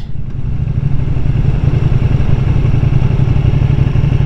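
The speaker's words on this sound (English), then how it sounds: "This is a amazing super sport bike." A 2020 Ducati Panigale V2 super sport motorcycle runs at a steady throttle while being ridden, a loud, close, constant engine drone with rough low pulsing and wind rush, no talk.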